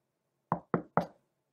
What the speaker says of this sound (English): he knocked lightly on the door.